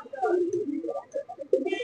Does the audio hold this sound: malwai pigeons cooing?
yes